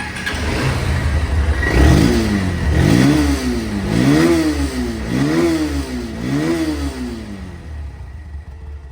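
A second-hand 2024 Honda CB Hornet motorcycle with CBS brakes revs up close by in five rhythmic throttle blips, each rising and falling over a steady idle, then settles back to idle.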